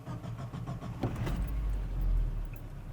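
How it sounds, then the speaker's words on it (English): A Mazda B2000 pickup truck is started: a few light clicks and key rattles, then a low engine rumble that rises and settles into a steady idle, close by. "I'm gonna go ahead and turn my truck on"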